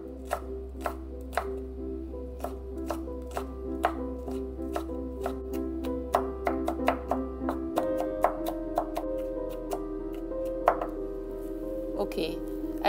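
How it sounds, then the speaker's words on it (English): A knife chops garlic finely for a broccoli stem salad, giving a fast, steady run of sharp, close taps that repeat through the whole passage over soft background music. "Chop garlic very well."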